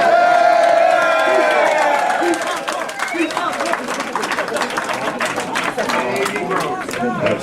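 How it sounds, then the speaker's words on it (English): A crowd at a wrestling fan conference claps and cheers, with whoops and scattered claps under someone talking loudly nearby, and the voices stay prominent throughout. "They're clapping."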